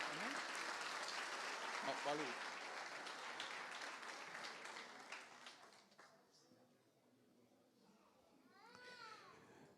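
A church congregation applauds during a New Year's Eve service, steady clapping for several seconds mixed with children's voices, tapering off before a voice speaks near the end.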